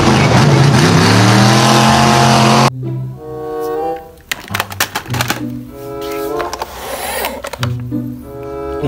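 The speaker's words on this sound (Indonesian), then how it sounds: "Kalau yang ini ada mobil off-road." A toy car's motor whirs loudly and steadily, then runs in uneven bursts of revving and whining, with music or tones mixed in.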